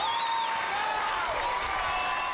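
Huge crowd at the 2007 Geelong AFL Grand Final celebrations cheering and applauding the premiership winners, a dense, continuous roar of clapping and shouting with no pauses.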